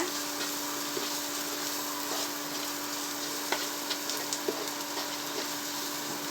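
Chili powder, turmeric and salt stirred in a frying pan at a village kitchen in Ooty, with a soft continuous sizzle under a few light scrapes and taps of the spoon against the pan, close by.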